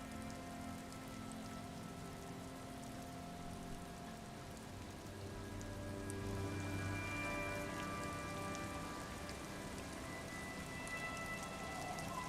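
Steady rain in the video game Disco Elysium patters and hisses on a surface, thickening into a heavier downpour midway, with a low rumble underneath.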